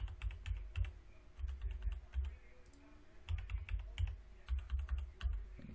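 A password being typed on a computer keyboard: a steady run of close keystroke clicks over a low hum, continuing with brief gaps for several seconds.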